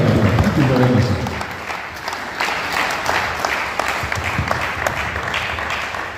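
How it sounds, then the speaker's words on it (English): A lecture audience breaks into dense applause beneath someone speaking through a microphone, and the clapping fades slightly toward the end. "Let's give a round of applause."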